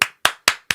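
Four sharp hand claps in a steady rhythm, each with a quick decay, close and fairly loud, with no talk over them.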